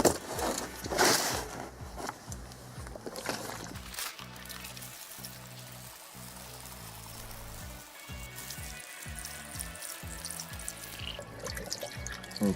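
Antifreeze poured into the cooling system of a GMC 350 engine swap, a continuous liquid trickle and glug that sits near and fairly quiet under faint background noise.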